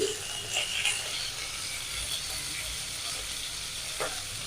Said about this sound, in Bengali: দিয়ে দেবো সর্ষের তেল সেই ইলিশ মাছের মাথা দিয়ে দিলাম দেব লবণ